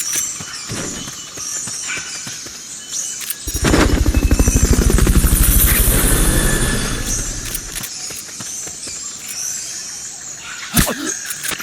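A helicopter in the video game Metal Gear Solid Peace Walker thumps loudly with steady, rapid rotor beats that rise over a few seconds and fade out, set among game ambience and brief sharp effects.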